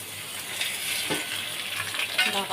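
Morola fish paturi sizzling in a hot wok, a loud, close, continuous hiss and crackle of frying with a few brief pops, no voices present.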